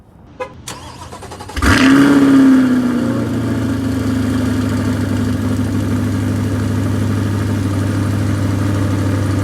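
A 2023 Chevrolet Corvette C8 Stingray Z51, mid-engine, fires up with a loud burst and a brief rev, then settles into a steady, rumbling idle close by, with a few faint clicks beforehand.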